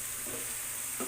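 Potatoes drop into a sizzling pan of spiced meat, a short burst of constant frying hiss with two soft stirring scrapes.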